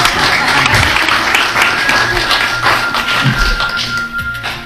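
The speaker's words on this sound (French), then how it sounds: "C'est là qu'on applaudit." Audience applause at a French mentalism stage show, a dense continuous patter of many hands clapping at steady loudness throughout, with some scattered voices mixed in.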